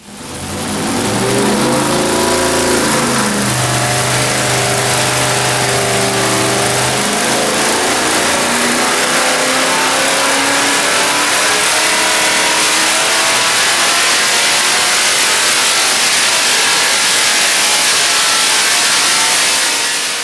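A 743 hp small block Chevy engine roars on a dyno, climbing from a rough idle into a long, sustained, very loud wide-open rev that holds for most of the run with no talk.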